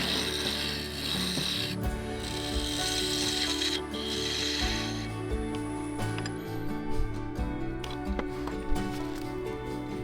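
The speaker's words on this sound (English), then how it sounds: "The 2 smaller rings wouldn't go through the sander, so I levelled them on the lathe." Wooden rings being faced flat on a lathe for a crackle-effect vase, a steady spinning drone with scraping and rubbing from the cutting tool, continuous and close, with a change in pitch partway through.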